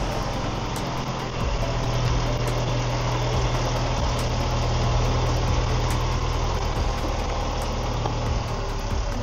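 A farm tractor engine idles steadily close by while straw is spread for a calf nursery, a low continuous rumble with harmonic vibration and no speech.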